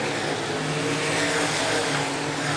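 Open wheel modified race cars roar around the speedway at Angola Motorsport Speedway, a dense, continuous engine drone from several cars at once, loud and unbroken with no clear pass-bys.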